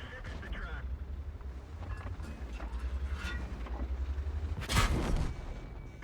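A tank's ammo rack detonates in a tank combat video game while driving the XM66F: a sudden loud, broadband blast rises out of steady engine rumble and battle noise late in the clip, then fades back into the drone.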